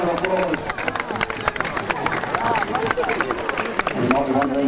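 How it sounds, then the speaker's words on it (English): A Queensland crowd claps and cheers after a trained tiger scales a tree: scattered, irregular clapping mixed with crowd chatter and a nearby voice, steady throughout. "Give him a round of applause."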